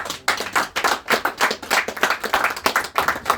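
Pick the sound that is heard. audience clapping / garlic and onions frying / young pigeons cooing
audience clapping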